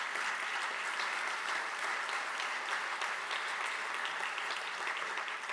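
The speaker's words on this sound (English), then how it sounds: "He definitely deserves a round of applause." An audience at an annual lecture claps steadily for a community leader, dense sustained applause throughout with no break.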